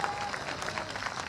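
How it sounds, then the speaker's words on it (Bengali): Loud applause from the audience at a ceremony honouring a SAFF futsal championship team, dense steady clapping filling the whole short stretch with some crowd noise mixed in. "জোরে একটা করতালি"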